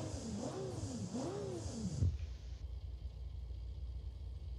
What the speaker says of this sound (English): Yes, that's a V12 engine.